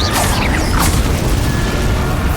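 Confringo fire spell in the Hogwarts Legacy video game, a loud booming burst with whooshing crackle that sweeps down quickly, then a sustained roaring rumble.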